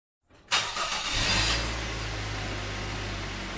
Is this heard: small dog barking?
no